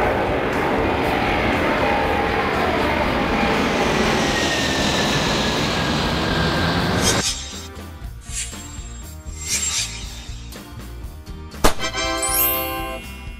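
An Antonov An-225 Mriya, the world's largest cargo aircraft, gives a loud, sustained jet roar with a shifting whine for several seconds. The roar then cuts off abruptly to quieter, sparser sounds.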